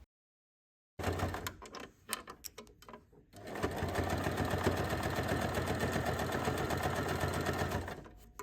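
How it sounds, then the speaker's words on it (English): A domestic sewing machine stitches a pinned seam on a fanny pack, starting after a second of silence with a few short bursts, then running steadily and fairly close for several seconds. "After you're done, sew the pinned area."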